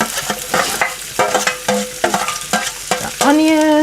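Onions and garlic hit hot oil in a pot, producing loud, close sizzling broken by a series of rhythmic scraping stirs and clanks, ending in a sustained bright ring or hiss.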